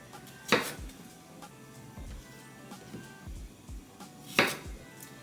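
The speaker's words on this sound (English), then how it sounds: "I'm going to chop the cucumbers now" A knife chops cucumbers on a cutting board in a home kitchen, a few soft, scattered thuds with two sharper knocks, faint and close amid quiet room noise.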